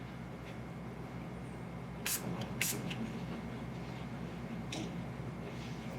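A few short perfume spray bursts, two close together then one more, over a steady low background hum.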